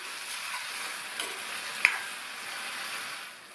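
Masala powder sautéed with about a quarter cup of water in a pan for ennai kathirikai kuzhambu, a steady soft sizzle with a single sharp scrape or tap near the middle, no voices.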